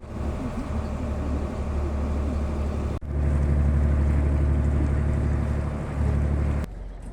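A ferry boat crossing toward Santillana del Mar on the Camino del Norte: a steady, loud engine rumble with water and wind noise buffeting the microphone, continuous until a sudden cut near the end.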